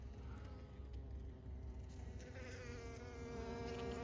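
Dense buzzing of honeybees flying around a hive in late winter, a soft continuous drone with individual bees passing closer now and then, no voices.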